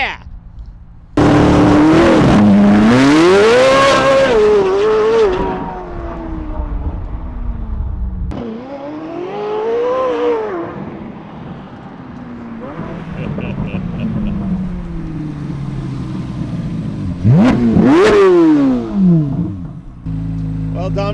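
2023 Corvette C8 Z06 using launch control at 4,500 RPM: a loud engine blares and climbs steeply, drops away, and builds again, with a fresh sharp rev rising near the end. Voices talk over parts of the run.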